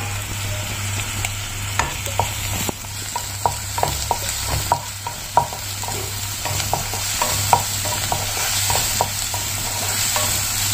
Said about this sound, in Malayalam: നമുക്കിനി എടുത്തു വെച്ചിരിക്കുന്ന ഇഞ്ചി വെളുത്തുള്ളി പേസ്റ്റ് കൂടെ ഒന്ന് ചേർത്ത് കൊടുക്കാം